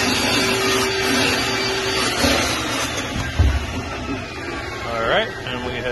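A Micro Plus sump cleaner vacuums swarf and fines from the machine coolant sump of an F600, giving a continuous loud suction drone with gurgling surges, while a person talks over it.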